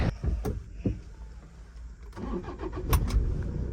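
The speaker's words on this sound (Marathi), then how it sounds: "चला गाडी स्टार्ट कर" A Toyota Innova car engine cranks and starts at an engagement gathering, a short burst of starter noise settling into a low idle, fairly close, with faint voices around.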